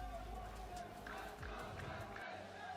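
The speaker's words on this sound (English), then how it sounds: "Can you hear the crowd?" Esports arena crowd at the Esports World Cup, a steady roar of many voices and cheers filling the space continuously at moderate loudness.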